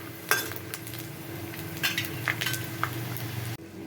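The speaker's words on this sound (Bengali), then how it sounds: "বাদামগুলো ভেজে নেব বাদামগুলো ভেজে" Peanuts fry in oil in a pan with a busy, close sizzle. A few crisp metallic clinks and stirring scrapes rise above it before the sound cuts off abruptly near the end.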